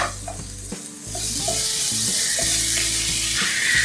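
Chopped green chilies stirred into a sizzling aloo samosa filling in a hot pan, a continuous loud frying hiss with soft scraping as the mixture is turned, and no talking.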